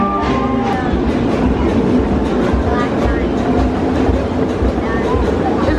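A small single-seat amusement park train ride at Knoebels runs with steady clickety-clack of wheels on track and a continuous rolling rumble, close and fairly loud throughout.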